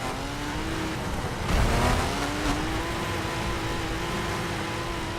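A BMW driven in the racing video game The Crew, its engine holding a steady droning note with a brief louder surge, close and continuous without talk.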